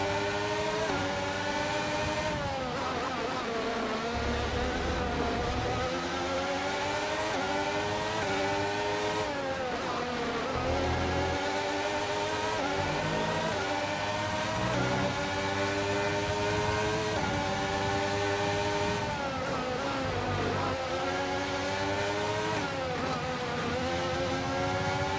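A Formula 1 car in the F1 23 video game screams at high speed, its engine pitch sweeping up and down repeatedly through shifts and corners, loud and continuous for the whole stretch with no talk.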